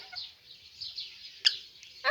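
Small parrots, lovebirds together with a rose-ringed parakeet, chirp and call in a steady high twittering, with a sharper squawk near the end.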